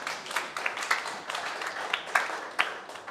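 Scattered, fairly faint applause from a panel discussion audience in Salzburg, with uneven claps rising and falling in short bursts rather than a steady ovation.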